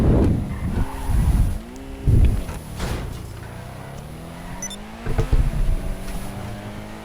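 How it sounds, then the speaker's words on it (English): An SUV spins out during a race in GTA 5 Online, its tires squealing and skidding in long wavering whines over a steady engine drone, with no one talking. "as you can see there, I spun myself out."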